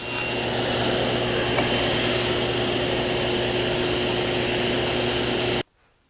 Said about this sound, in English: Then I rotate the workpiece, butt up against the stop block again, and make another cut